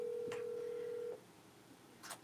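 An outgoing call on an Apple phone rings out: a steady electronic tone holds for about a second, then stops, with a faint click or tap near the end, quiet and alone.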